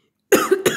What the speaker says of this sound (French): j'ai dû couper tellement que je n'arrêtais pas de tousser.